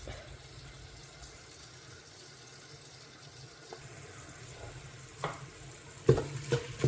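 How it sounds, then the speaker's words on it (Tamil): Ingredients for a tamarind curry sauté in a pan with a steady low sizzle and occasional stirring clatter, growing a little louder with a few sharp clinks near the end. "இது நல்லா வதங்கணும்."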